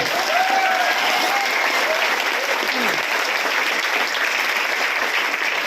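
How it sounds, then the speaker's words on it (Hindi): Steady audience applause fills a motivational talk hall, loud and dense, with scattered whoops and a few voices in the crowd. "एक जबरदस्त तालियां होनी चाहिए आपके लिए"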